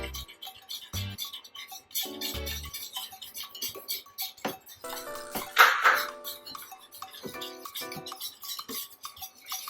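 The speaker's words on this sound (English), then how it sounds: "I'm going to just whisk in a third cup of flour" A whisk clatters and scrapes in a pan as a third cup of flour is stirred into oil over medium heat for a gravy roux, a series of quick metallic clinks and taps up close.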